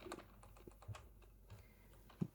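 Quiet, fast typing on a computer keyboard, with soft irregular key clicks and an occasional louder tap, close and alone.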